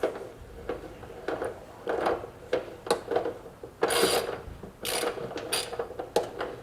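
A part is threaded down by hand on a 1963 Ford F100, giving quiet irregular metallic clicks and ratchet-like scrapes in short bursts with no talking.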